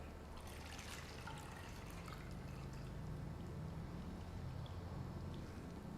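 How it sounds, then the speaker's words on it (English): Shaken taro bubble tea pours into a cup over brown sugar pearls in a soft, continuous liquid stream with faint trickling and splashing, quiet and close. "pour your shaken bubble tea"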